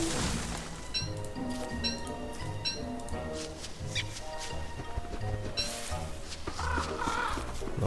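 Birds chirp and squawk in the video game Don't Starve, with repeated short calls and pecking-like clicks over game music, fairly close and continuous.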